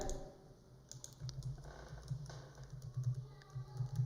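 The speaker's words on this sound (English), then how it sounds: "So we will type the name here" Quiet, rapid tapping on a computer keyboard, keys clicking in short irregular bursts at close range with no voices.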